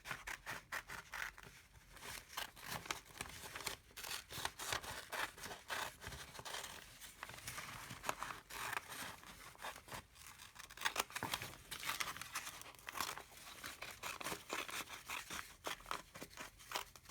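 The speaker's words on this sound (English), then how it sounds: "we're going to cut 11 pieces of newspaper 13 centimeters by" Scissors snip through sheets of newspaper close up, a quick irregular run of crisp cuts and papery rustles and tears that goes on steadily with no talking.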